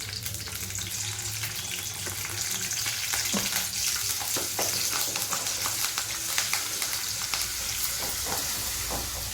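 Curry leaves and ginger garlic paste sizzle loudly in hot oil for a mutton dish, with continuous close frying crackle, occasional stirring clinks and a faint running tap behind.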